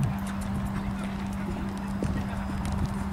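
The hooves of a young chestnut mare, newly started under saddle and ridden at a canter, thud in a steady rhythm on open ground, set against a constant low hum and outdoor noise.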